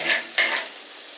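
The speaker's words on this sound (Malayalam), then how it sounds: "ഇത്ര സാധനങ്ങൾ നമ്മൾ ഇതിനകത്ത് ചേർത്ത് കൊടുത്തിട്ട് നല്ല അടിപൊളിയായിട്ട് മൂപ്പിച്ചെടുക്കണം" Kashmiri chilli, coriander and turmeric powders frying and being stirred in a pan for a fish curry masala, two short scraping sizzles close up, with no voices.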